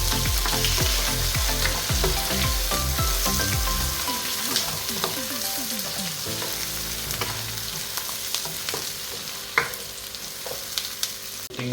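Pork ribs and onion fry in a pan for a kaldereta, with loud sizzling and crackling and a spoon scraping and stirring repeatedly, with occasional sharp clinks.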